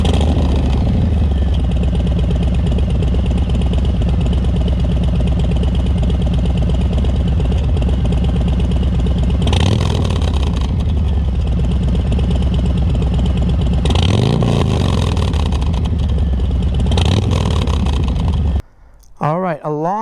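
A 2021 Harley-Davidson Low Rider S with a Bassani 2-1 exhaust and stage 1 tune idles with a deep, lumpy exhaust note, blipped into a few short revs before the sound cuts off abruptly near the end.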